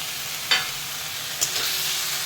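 Fish is stirred in a pan of hot oil, a soft continuous sizzle punctuated by two brief, sharp scrapes of the spoon against the pan.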